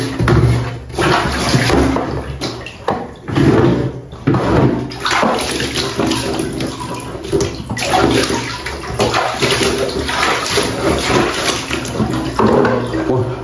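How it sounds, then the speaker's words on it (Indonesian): Water is poured and splashed over a large, dirty ondel-ondel mask to wash it, in loud, repeated gushes that come and go. A person talks between and over the pouring. "Kita langsung siram wajah ondel-ondel ini teman-teman."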